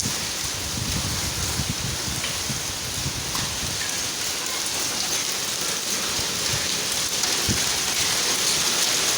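Hailstones pelt a car roof in a steady, dense patter mixed with rain, close and continuous, with occasional sharper knocks and a gusty wind rush underneath.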